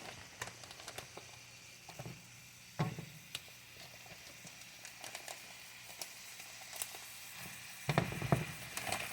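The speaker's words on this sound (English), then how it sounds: "We like for these to fry together." Breakfast casserole ingredients fry together in a pan with a steady soft sizzle, punctuated by occasional louder scrapes and stirring knocks throughout.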